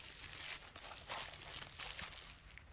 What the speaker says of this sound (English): they're all individually wrapped in their own little plastic bags